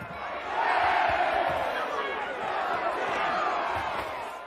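A large crowd cheers and roars at a royal proclamation in House of the Dragon, swelling loudly then holding as a broad sustained din with a voice shouting over it.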